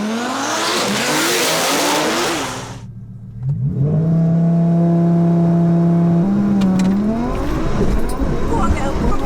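Two 1500bhp cars, a Turbo S and an Audi R8, launch from a standing start with a loud broadband roar, then after a brief lull rise into a sustained high-revving engine drone with a step in pitch, continuing loud and close.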